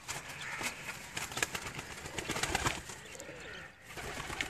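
A flock of domestic fancy pigeons coos steadily at close range against a busy outdoor background, with occasional soft flutters among the calls.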